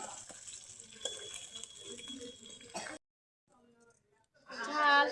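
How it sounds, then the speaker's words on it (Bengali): Fish heads for muri ghonto frying in a pan, with a sizzle and stirring sounds under someone talking, a sudden drop to near silence, then a louder burst at the end. "মুড়ি ঘন্ট রান্না করার জন্য মাছের মাথা ভালো করে ভেজে নিচ্ছি"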